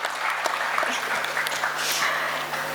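Steady, dense applause from an audience greeting a cast member of The Lord of the Rings: The Rings of Power, a continuous wash of clapping that stays fairly even throughout.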